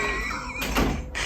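A stuck sliding door is dragged and scraped along its track in two or three short, rough bursts, close by and fairly loud, with no talking.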